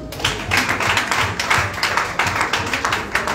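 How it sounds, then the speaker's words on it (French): Audience members clap loudly in uneven bursts, close and percussive, with individual hand claps standing out from a smaller group rather than a vast crowd. "On applaudit très fort."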